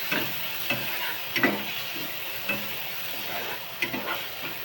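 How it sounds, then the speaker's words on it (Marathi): Tomato stir-fries in a pan for a dried-fish and green-chili dish, giving a continuous soft sizzle broken by repeated scraping and stirring strokes, near and moderately loud, with no talking. "टोमॅटो टाकून घेतला आता, तो पण चांगला परतूया."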